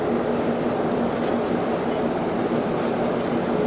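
A ChME3T diesel shunting locomotive moves a passenger train at a station, producing a steady, loud rumble of engine and rolling wagons that continues throughout, with no talk.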